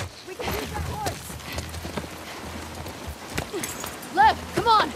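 Horse hooves clip-clopping at a run in The Last of Us Part II, a steady rhythmic patter under game ambience, with voices calling out over it near the end.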